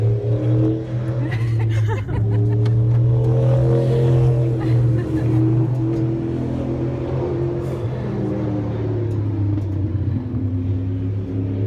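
A car engine rumbles steadily with rising and falling revs while driving, a constant loud drone filling the whole stretch with no clear gaps.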